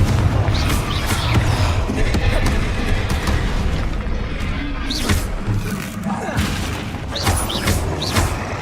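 A Confringo blasting spell in Hogwarts Legacy, a run of booming impacts and thuds, loud and near, with repeated bursts over a rumbling game backdrop and occasional spoken voices.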